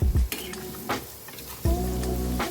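Sweet and spicy mango pickle is stirred in a pan over a low flame, with a spoon scraping and clinking against the metal over a soft, steady sizzle, close up.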